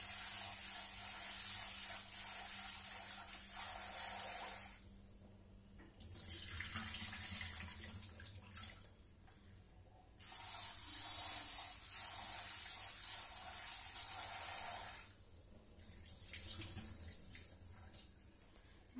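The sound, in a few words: washing jowar (sorghum) grains in water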